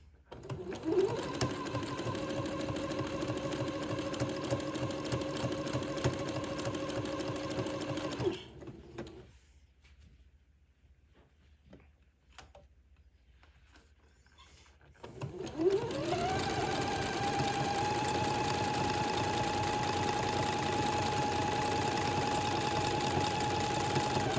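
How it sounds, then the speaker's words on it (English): Domestic sewing machine zigzag stitching a sleeve onto an entredeux seam on a twin baby daygown, a steady close mechanical whir that stops for several seconds midway, then resumes at the same even pace. "zigzag this sleeve onto the entredeux seam"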